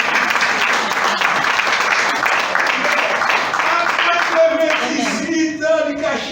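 A church congregation applauds during a deacon nomination service, steady dense clapping running loud and close, with voices and a few sung or spoken tones rising near the end.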